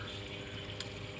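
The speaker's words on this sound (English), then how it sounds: "then let the water go through the filter floss, and then as your filter floss gets clogged, the water level kind of rises" Aquarium water running steadily through filter floss in the sump of a Red Sea Reefer 250 V3 fitted with a Clarisea SK-3000 Gen2 fleece roller, a faint continuous wash of flow.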